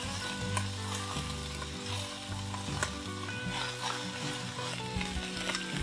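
Wet broccoli rabe fries with garlic in a hot pan, giving off a steady, dense sizzle with scattered pops and crackles. Nearby and continuous, with no talking.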